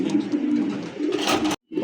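A German Beauty Homer pigeon coos nearby in a soft, throaty burble, a couple of rolling calls ending with a brief pause.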